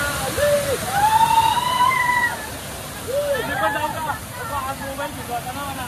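A waterfall, seen on a family outing, rushes steadily as loud broadband water noise throughout, with people talking and calling out over it.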